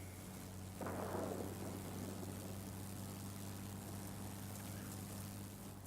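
A Yak-3 propeller fighter in World of Warplanes drones steadily at low volume, its engine hum constant throughout, with a brief rushing swell near the start that fades back into the even background.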